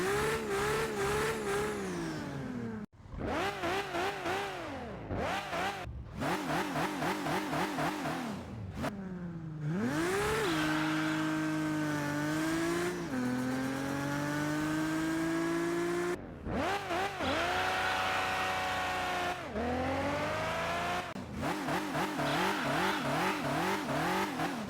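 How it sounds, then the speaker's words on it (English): Toyota Supra Mk4 engine with no turbo in the Car Parking Multiplayer game, loud and close, revving hard through repeated rising pulls with brief gaps between bursts, then longer sustained high-rpm runs. "We're going to start by comparing the new engine sounds without any turbo equipped, and we'll be using a Toyota Supra Mk4 for this engine comparison."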